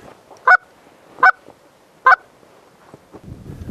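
Three loud goose honks spaced evenly apart during a goose hunt, with softer distant honking and faint rustling in between.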